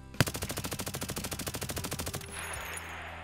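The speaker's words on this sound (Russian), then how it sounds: "Вот так стреляет вал на ФОВе 50." A VAL rifle in Escape from Tarkov fires one sustained full-auto burst of about two dozen evenly spaced, sharp, close shots over roughly two seconds, then a short echoing tail.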